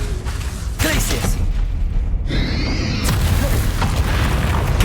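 A Glacius ice spell is cast in Hogwarts Legacy on PS5: deep booming combat rumble, then a bright shimmering, ringing burst for about a second, before the heavy thuds resume.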